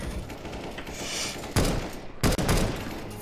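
Gunfire in the video game CS:GO: sharp shots ring out, then two loud, close bursts follow in quick succession, each standing well above a steady background hiss.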